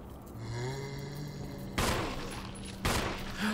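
Two sharp gunshot blasts ring out in Resident Evil 1, each a loud broadband crack with a short decay, roughly a second apart over a low droning background hum.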